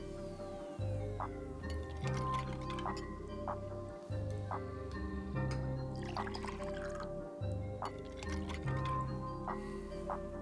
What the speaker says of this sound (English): Next, pour in 3 ounces of sparkling lemonade.